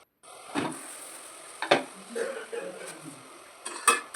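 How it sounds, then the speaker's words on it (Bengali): A lid set on a wok that has just had water added, heard as a few close metallic clanks and knocks amid light kitchen clatter, with no speech. "কড়াইতে আমি জল দিয়ে দিয়েছি দিয়ে ঢাকা দিয়ে দিলাম"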